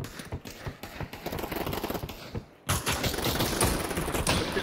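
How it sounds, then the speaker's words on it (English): Rapid bursts of automatic gunfire in the VR shooter game Pavlov ring out loud and close, dense crackling volleys that pause briefly before resuming even harder. "You're getting shot in the back"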